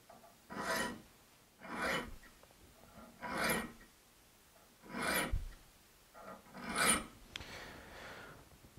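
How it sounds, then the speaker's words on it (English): A crosscut handsaw being sharpened with a file held in a Veritas saw file guide, giving six rhythmic rasping strokes about a second apart, each a gritty, bright push across the teeth with short pauses between. "And this is a classical crosscut filing."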